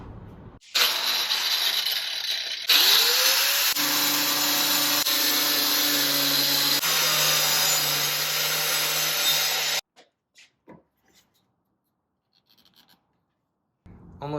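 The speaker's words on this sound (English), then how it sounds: "Almost finished cutting off this flare" An angle grinder cuts into a fender flare on a Toyota 4Runner with a loud, continuous high whine that shifts in pitch as the blade bites, then stops abruptly, leaving a few faint clicks and rattles.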